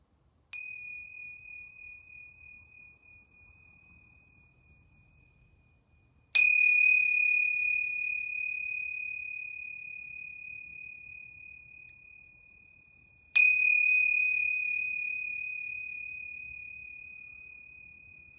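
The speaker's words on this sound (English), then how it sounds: "So I'm going to ring these yoga bells 3 times." Yoga bells struck three times during a closing relaxation, each a clear, bright ring fading slowly in otherwise near silence, with long gaps between strikes.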